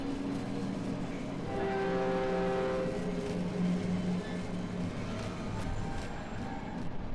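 A train moving through the horror video game Cry of Fear gives a steady, rumbling rolling noise. A drawn-out tonal whine or horn rises over it for a few seconds midway, with no talking.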